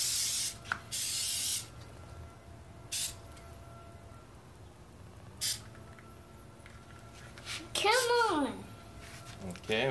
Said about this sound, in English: By spraying coconut oil spray, because that makes it not sticky.